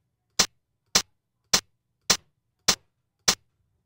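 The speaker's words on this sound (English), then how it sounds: "I can make that hi-hat trigger again" A hi-hat drum sample triggered in Pure Data, six crisp bright hits spaced evenly about half a second apart, loud and close against silence.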